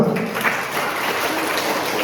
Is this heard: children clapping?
yes